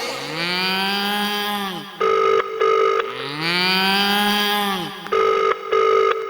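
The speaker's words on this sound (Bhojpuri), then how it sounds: "मोबाइल निकाल दे हमें जल्दी फोन लगाई।" A mobile phone ringtone plays as a bright electronic melody with a rising tone followed by a few short beeps, repeated twice in close succession with no talking.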